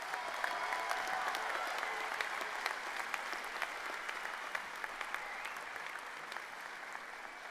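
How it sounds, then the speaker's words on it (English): Graduation ceremony audience applauding the new graduates at a 2018 University of South Carolina winter commencement, a steady, dense wash of clapping from a large crowd, moderately distant and even throughout, with no speech over it. "one more round of applause for these incredible individuals"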